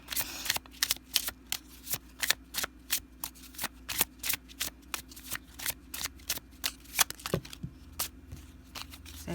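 Tarot cards being shuffled by hand: a close, rhythmic series of crisp riffling snaps and soft slaps, repeating steadily at roughly two per second against a quiet room hum.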